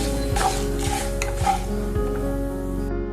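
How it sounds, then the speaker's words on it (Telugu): Semolina being stirred and roasted in a pan of tempering, with steady scraping strokes of a spoon against the pan and a soft sizzle underneath, a few sharper metal clinks standing out, close and fairly loud. "2 గ్లాసుల రవ్వని ఈ పోపులో వేసి వేయించుకుంటాను."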